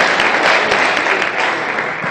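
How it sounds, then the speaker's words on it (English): An audience at a county fair pageant claps as a contestant walks onto the stage, a dense, continuous burst of applause from a large crowd with no talking over it. "a round of applause for Elizabeth as she starts to make her way onto the stage"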